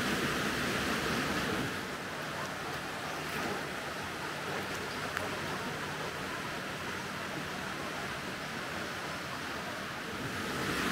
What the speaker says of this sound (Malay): Ini sungai dia.